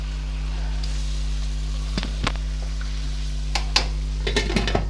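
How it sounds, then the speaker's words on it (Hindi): Masala with green chillies frying in a pan for moong dal, a steady low sizzle with a few sharp clinks and scrapes of a spoon against the pan, no talking. "ये देखिए ये मेरा मसाला भून रहा है।"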